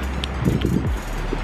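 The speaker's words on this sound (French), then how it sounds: "Il y a beaucoup de vent, désolé" Strong outdoor wind buffets the microphone, producing a steady low rumble with gusty swells and rustle throughout, no clear speech.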